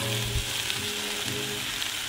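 Beef, garlic and asparagus fry together in a pan, giving a dense, steady sizzle that fills the whole moment without pause, close and fairly loud, with faint stirring underneath.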